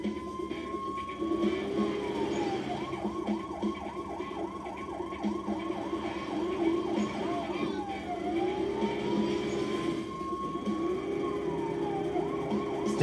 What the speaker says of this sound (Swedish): Stäng av sirenerna, för de är jobbiga.